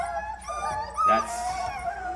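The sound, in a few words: dog whimpering at bath time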